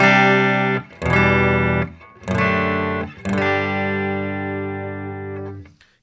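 A Nash T57 Telecaster played clean through a Morgan RCA 35 amp, with about four ringing chords struck in turn, each sustaining loud and close before it stops, no voice over it.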